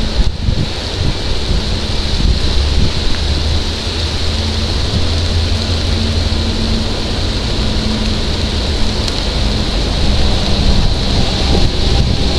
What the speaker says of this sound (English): the heavens have opened